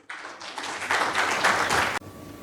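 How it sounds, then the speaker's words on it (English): An audience applauds at an SME manufacturers and exporters summit in Chennai: a dense, steady burst of clapping that builds quickly, holds for about two seconds, then cuts off sharply. "please give a big round of applause to him"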